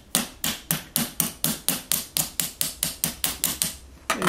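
Hammer striking a metal part of a Fotopro tripod, about sixteen sharp, loud close-up whacks in a fast steady rhythm, each ringing briefly before the next, with no talking.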